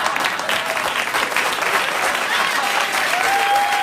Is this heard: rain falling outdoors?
no